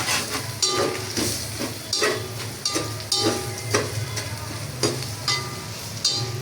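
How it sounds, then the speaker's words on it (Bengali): Turmeric and other spices fry in a pan, a continuous sizzle broken by regular scraping strokes of a stirring utensil against the metal, close and moderately loud. "মশলা ভাজা হয়ে গেছে"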